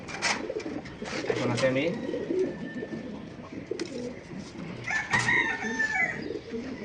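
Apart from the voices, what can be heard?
pigeons cooing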